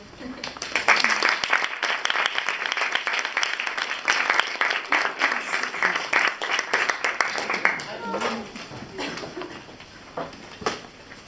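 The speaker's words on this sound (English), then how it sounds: "I want us to give one big round of applause for all the groups." A classroom audience claps and applauds loudly for several seconds after group final presentations, then the clapping thins out and fades toward the end, with some talk mixed in.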